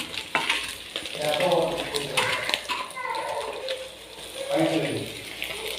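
Vegetables such as beans, carrot, capsicum and cabbage fry with egg noodles in oil, a soft sizzle mixed with stirring scrapes in the pan, close by, while a person talks over it throughout.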